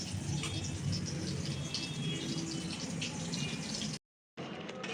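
Chicken pieces washed under a running tap in a kitchen sink, the water rushing steadily and close by, then a brief gap of silence before the flow resumes.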